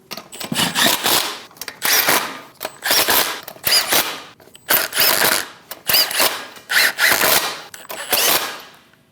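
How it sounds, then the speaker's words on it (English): A power impact tool snugs down the eight wheel lug nuts on a Chevrolet Express van, loud close bursts of rattling buzz, roughly eight to nine, separated by short pauses. "Snug the lug nuts down."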